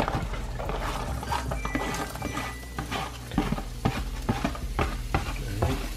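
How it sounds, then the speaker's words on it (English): Onions tossed into a hot pan for butter chicken hiss into a steady, close sizzle, broken by spoon stirs and light clinks against the pan; no one speaks. "we're gonna throw these onions in there"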